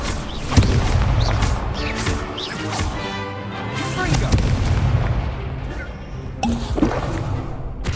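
Confringo blast spells explode during a duel in the video game Hogwarts Legacy, several sharp booming bursts with crashing debris, mixed with spoken spell incantations.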